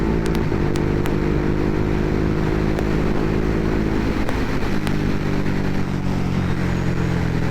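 Ducati Hypermotard 821 naked motorcycle at speed with a Healtech quickshifter, engine droning loudly under heavy wind rush, with a few brief sharp clicks as gears change.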